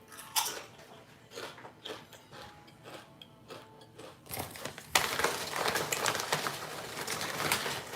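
Someone chewing barbecue chips, with crisp, irregular crunching bites close to the mic, sparse at first and then a denser, louder stretch of chewing, and no talk.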